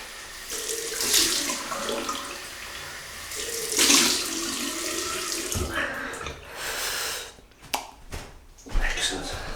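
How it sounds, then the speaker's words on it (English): Cold water runs steadily from a tap and splashes as a razor is rinsed during wet shaving, with a few clatters near the end. "Cold water rinse."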